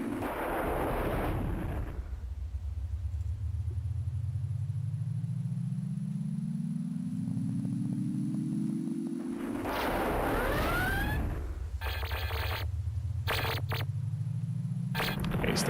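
Spaceship weapons fire in the Mac game Escape Velocity Override: sharp bursts of shots at the start and again later, over a steady drone with rising tonal sweeps.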